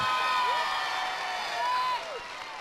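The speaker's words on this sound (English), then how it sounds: "Give yourself a big round of applause." A crowd claps and cheers at a Head Start preschool graduation, with whoops and children's shouts rising over the steady applause before it begins to fade.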